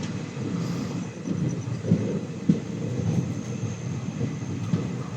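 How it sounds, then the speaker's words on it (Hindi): A passenger train, the 13043 Howrah–Raxaul express, rolls into a busy railway station with a steady low rumble of wheels and carriages and faint clanks, continuous and fairly close, with no talk. "4 मिनट की देरी से ट्रेन यहाँ पहुँची है"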